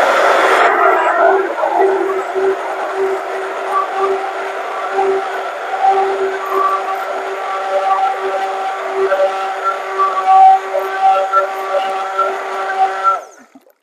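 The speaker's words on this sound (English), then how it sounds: "So we're going to mix this up again." A Ninja CREAMI machine whirs steadily as it re-spins a tub of chocolate peanut butter ice cream, a loud, close, droning motor hum with a slight grinding edge that holds for over ten seconds and then cuts off.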